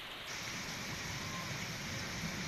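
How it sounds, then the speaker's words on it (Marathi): Pre-monsoon rain showers falling in Bhor, a steady, even hiss of rainfall holding at one level throughout, with no voices. "भोरमध्ये मान्सून पूर्व सरी कोसळत आहेत"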